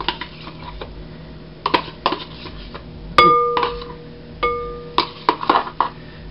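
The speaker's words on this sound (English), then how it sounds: "Now we're going to mix it until it's well blended." Canned spinach stuffing being mixed in a bowl, with a spoon clinking and scraping against the dish in irregular bursts and a few sharp metallic knocks, fairly close.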